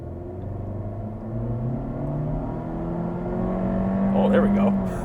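A 2022 Honda Civic Hatchback Sport Touring with a 1.5-liter turbo four-cylinder pulling away, the engine rising in pitch as it accelerates, heard from inside the cabin under road rumble.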